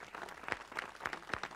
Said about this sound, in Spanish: qué aplauso cada vez